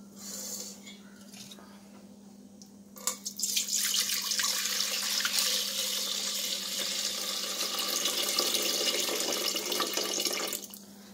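Settled ginger juice for ginger coriander coffee is poured out in a steady liquid stream that runs for several seconds, loud and close, after a quieter start.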